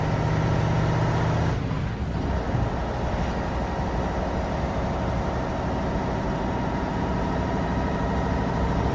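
A Tatra 815 dump truck's engine drones while driving, a heavy continuous low diesel rumble heard from the cab, with a brief dip and shift around the second second, then a steady loud roar to the end.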